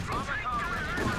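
Company of Heroes 2 battle gunfire, a dense burst of booming shots and rumbling artillery filling a short moment, with a voice talking over it.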